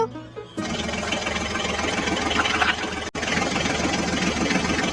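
A toy John Deere tractor's small engine whirs in a steady, buzzing drone after a quiet start, with a rapid mechanical rattle throughout and one brief dropout.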